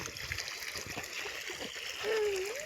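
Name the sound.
children splashing and playing in water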